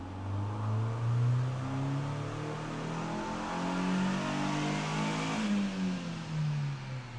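A Chevy Sonic engine on a dyno, fitted with a leaf-blower supercharger, revs hard up through the gears. The loud climbing engine tone drops at each shift and then builds again, with no voices.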